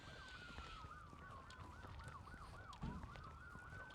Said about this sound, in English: We've got ambulance here.